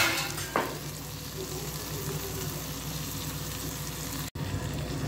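Oysters stirred and fried in a pan sizzle and crackle continuously, with a brief scrape of stirring near the start and a short dropout later.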